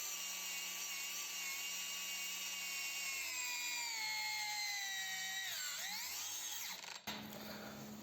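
A battery-powered angle grinder on a TPCELL 4Ah pack with Tenpower INR21700-40XG tabless cells whines steadily and loudly under load, its pitch sagging as it bogs down, then cutting out abruptly near the end when the protection trips.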